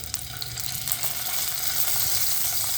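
Cut cauliflower florets frying in hot oil in a pan, a steady, close, bright sizzle that builds slightly and holds without a break, with no talk.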